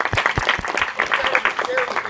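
An audience at a political house party in Oceanside, California, applauds in a short burst of uneven clapping mixed with crowd voices.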